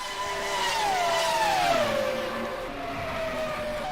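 Formula 1 race cars in a racing video game at the British GP, including a Sauber Mercedes, scream past with high revving engine tones that sweep downward as they pass, sustained and loud.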